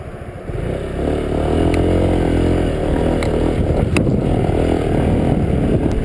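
A Honda SH150i scooter accelerates along an open road, its engine a steady loud drone with wind and road noise throughout and occasional rattles and clicks.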